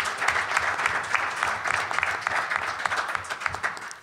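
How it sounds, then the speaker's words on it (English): Audience applause at a real estate panel event, a dense, sustained patter of many hands clapping across the room, steady and fairly loud with no voices over it. "And a separate round of applause for our panelists"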